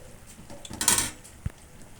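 Dry rice grains clatter briefly into a metal pot of boiling water for biryani, a short rattling rush followed by a single soft knock, with no voices.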